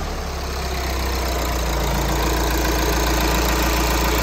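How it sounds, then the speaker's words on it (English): A VW Transporter T5.1 140 diesel engine with a turbo actuator fault idles close by, a steady low rumbling drone with a fine knocking texture, loud and continuous with no talking. "So let's start the engine back up."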